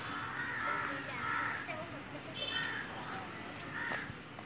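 Crows cawing near a Shani temple, a run of harsh repeated caws at a moderate distance over outdoor background noise, with faint voices in the surroundings.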